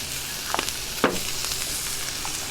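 A burger patty sizzles on a charcoal Weber kettle grill, a steady soft hiss and crackle with a few small pops and a brief scraping clink, heard close and alone.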